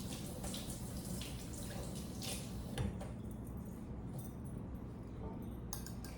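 Tap water runs steadily as a bowl is rinsed in a kitchen sink while making red velvet cheesecake, a continuous close splashing rush with faint clinks of dishware.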